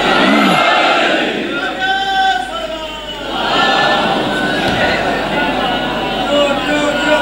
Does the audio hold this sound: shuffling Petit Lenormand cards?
no